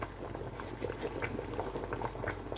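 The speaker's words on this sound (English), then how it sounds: "Now that the yam is boiling," Yam porridge (asaro) with long pepper bubbles in a pot on the stove, a soft continuous boil of small popping bubbles, close and fairly quiet.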